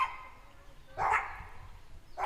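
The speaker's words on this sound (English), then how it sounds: "There's little dogs over there." Small dogs barking at a distance: one short yap burst around the middle and another starting at the end, over faint background noise.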